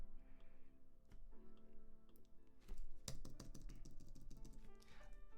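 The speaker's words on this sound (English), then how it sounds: "some useless typing over here" Clicky taps on a computer keyboard at a coding desk, irregular bursts of keystrokes in the foreground with a steady hum beneath.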